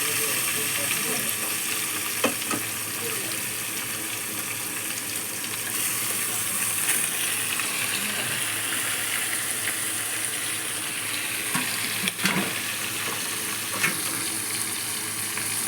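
Pieces of burakha fish fry in a pan, giving a steady loud sizzle that fills the whole stretch, with a few faint clinks and stirring sounds over it.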